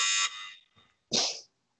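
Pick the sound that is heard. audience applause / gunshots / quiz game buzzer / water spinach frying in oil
quiz game buzzer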